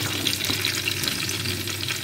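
Two zucchini, diced into cubes, frying in a little oil in a pan for basil and mint vegetables, a busy close crackling sizzle with light stirring scrapes, no voices.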